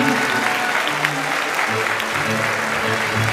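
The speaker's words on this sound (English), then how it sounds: "Let's have a round of applause for our inductees." A school audience at a National Honor Society induction gives the inductees a loud, dense round of applause, continuous many-handed clapping filling a large hall, with a few voices faintly mixed in.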